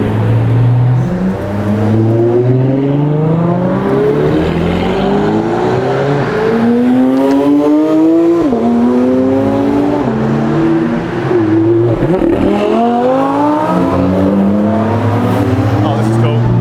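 A convoy of supercars drives along German roads, engines revving and rising in pitch as they accelerate past, loud and continuous with several overlapping passes; people talk over the engine noise.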